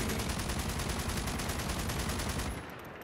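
Rapid, continuous automatic gunfire from a Minecraft firearms mod, Just Enough Guns, a dense rattling stream of shots that cuts off near the end, leaving a quieter tail.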